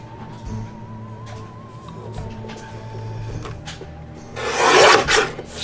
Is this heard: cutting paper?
yes